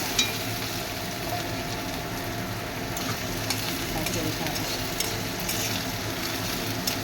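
Steady sizzling of onions frying in a little oil, close up, with occasional scrapes and clinks of stirring and no talking.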